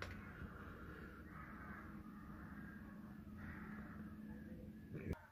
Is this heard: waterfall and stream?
no